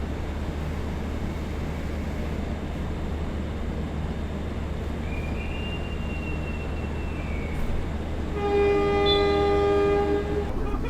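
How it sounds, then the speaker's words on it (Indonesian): KA Progo stainless steel economy train pulling out of Bekasi station at night, a steady rumble of wheels and car noise throughout, with a faint rising tone midway and a loud, sustained horn blast near the end. "Saat ini kereta api Progo telah berangkat dari stasiun Bekasi"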